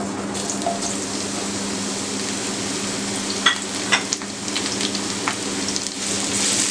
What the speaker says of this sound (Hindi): इनको मैं तब तक सॉटे करना है ना जब तक ये अपना वाटर रिलीज ना कर दे